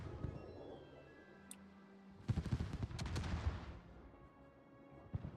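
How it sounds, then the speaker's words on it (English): A naval gun salvo in World of Warships, a cluster of heavy booming shots around the middle that roll into a rumbling decay, with quieter thuds before and after and no talk. "He's also catching the Bungo salvo right in the face"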